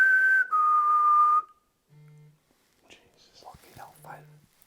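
A short electronic tone plays in a quiet room during a late-night house investigation, followed by faint rustling and soft low beeps.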